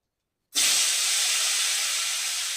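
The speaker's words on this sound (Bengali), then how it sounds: "আলুগুলো ভেজে নেব।" Salted potato pieces drop into hot oil in a pan while a fish curry is being cooked, setting off a sudden, loud, steady sizzle that holds without a break to the end.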